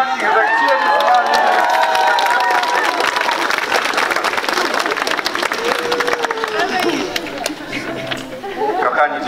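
Outdoor crowd applauding and cheering for arriving pilgrims at a Catholic procession, dense sustained clapping with chatter and voices layered throughout, loud and close, swelling again at the end.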